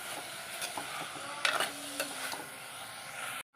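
A spoon scrapes and stirs through mango curry with chilli and turmeric powder in a pan, a few distinct clinks and scrapes over a soft sizzle, ending abruptly.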